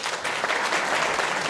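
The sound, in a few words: audience applause for Dr. Harrison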